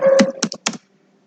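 A few quick keystrokes on a computer keyboard, close and distinct, tapping in a short irregular burst before falling silent.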